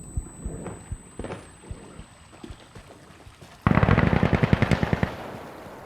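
Gunfire in the video game Insurgency Sandstorm: scattered single shots at first, then a loud, close burst of rapid automatic fire rattling for over a second before trailing off.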